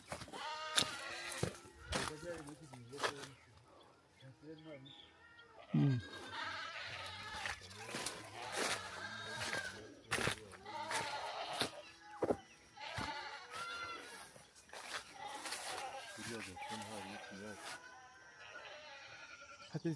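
Goats bleat repeatedly at a goat house on a large cattle ranch in Uganda, the calls coming near and at intervals while someone talks over them throughout.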